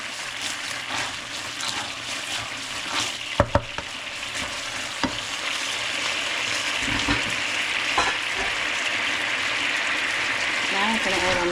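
Shrimp pad thai sizzles in a hot pan as dark sweet soy sauce goes in, a steady frying hiss with scraping stir strokes and a few sharp clacks, and a voice speaking faintly beneath.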